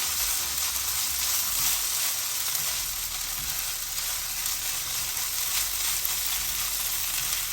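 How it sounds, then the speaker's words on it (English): Hash browns with herbs and spices sizzle steadily in a frying pan, a constant crackling hiss with soft scrapes from stirring and no talk. "I'm gonna mix it up a little bit because I don't want it to hash brown me up yet"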